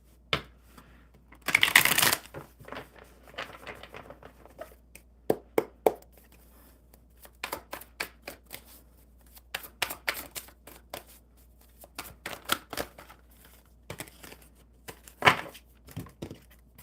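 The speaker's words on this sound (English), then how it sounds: "that's a horrible shuffle" Tarot cards riffled and handled close by, with a loud burst of fast shuffling near the start followed by scattered clicks, taps and soft card slaps, with no talking.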